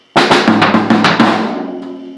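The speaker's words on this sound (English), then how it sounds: "That's a paradiddle." A short, quick paradiddle on drums, a run of strokes with uneven accents, a few rapid hits blending into a ringing decay, played close and loud.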